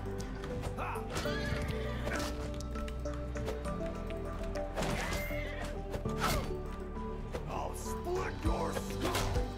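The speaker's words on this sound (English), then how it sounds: "How dare you attack my horse? Leave my horse alone." A horse in the video game Bannerlord Realm of Thrones whinnies sharply while under attack, amid battle clatter and a game score, with someone talking over the noise.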